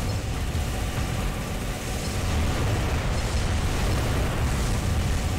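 Howitzer shell explosions in Armored Core 3 Silent Line, heard as a dense, steady roar of blasts and rumbling booms that keeps on loud and close without a break.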